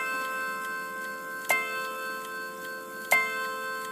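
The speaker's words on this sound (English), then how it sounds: "That's the hour strike." The hour strike of a triple chime bracket clock: two bright, resonant bell blows about a second and a half apart over lingering ringing tones, close and clear with no voices.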